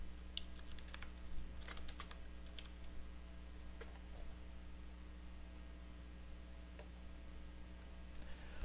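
Fast, uneven typing on a computer keyboard while a button name is entered in Stencyl game-making software, with light close clicks running throughout over a steady low hum and no talking.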